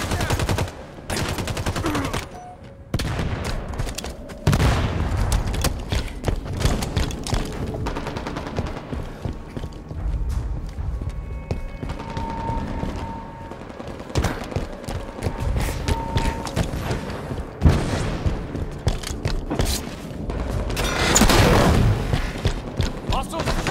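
Frag grenade blasts and heavy gunfire in a Halo 5 multiplayer match: sustained rapid bursts, loud booms and dense overlapping shots that fill the whole stretch, with voices heard under the combat.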